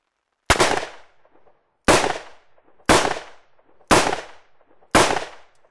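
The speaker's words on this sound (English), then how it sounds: "Let's continue with the .357 Magnum revolver, an exceptionally powerful handgun." Five loud, separate .357 Magnum revolver shots fired at a body armour vest, evenly spaced about a second apart, each a sharp crack with a short decaying tail, with no talking.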